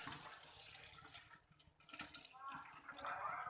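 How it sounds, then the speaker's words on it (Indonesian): Thin coconut milk is poured into a heated pot on a stove, giving a soft, faint liquid splashing and trickling that dips briefly and then resumes. "kita nyalakan kompornya, dipanaskan pancinya, lalu kita tuangi dengan santan cair atau encer"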